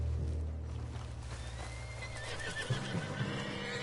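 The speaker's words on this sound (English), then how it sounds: "What's got this horse spook?" A spooked horse neighs, a drawn-out whinny rising over low rumbling background noise, followed by a few soft hoof sounds.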